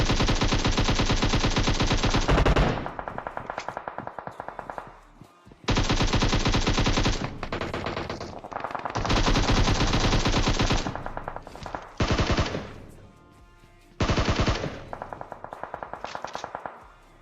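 Gunfire from PUBG Mobile, including shotgun blasts, comes in loud, dense bursts of rapid shots separated by brief quieter gaps, with no talk over it.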